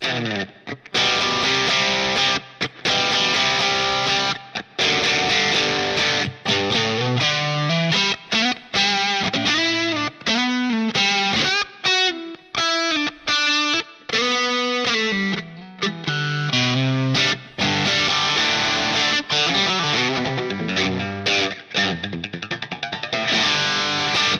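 Electric guitar through a Tube Screamer overdrive into a Line 6 POD HD500 modeled Fender Bassman (bright) amp plays a melodic line, warm and gritty, with sustained notes, bends and short pauses between phrases.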